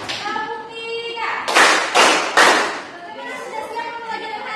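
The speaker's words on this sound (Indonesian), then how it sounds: "Tepuk 1, tepuk 2, tepuk 3" Three bursts of group clapping from a class counting out a clap pattern, each loud burst separated by short gaps, with voices speaking before and after.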